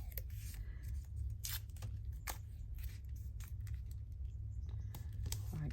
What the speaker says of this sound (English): I'm going to snip my corners